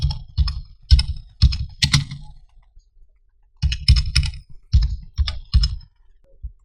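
Close keyboard typing on a computer, two quick bursts of crisp key clicks separated by a short pause, loud and clean with no talking.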